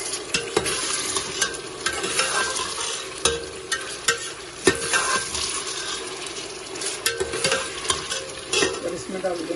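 Ingredients for beef haleem sautéing in a pot, a steady crackling sizzle with repeated scraping and stirring knocks throughout, close and prominent, no talking.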